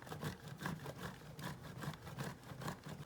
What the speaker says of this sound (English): So this is our aged Gouda. We're just gonna keep shredding this.